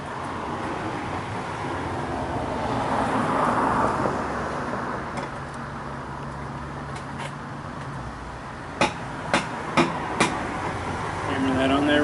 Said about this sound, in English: Hammer that on there real good